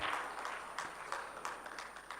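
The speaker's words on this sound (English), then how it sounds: "So please clap for yourselves for participating in all these conversations." A summit audience in the Kigali Convention Center hall claps, with a scattered, moderate run of individual hand claps repeating at a steady rhythm, faint and somewhat distant.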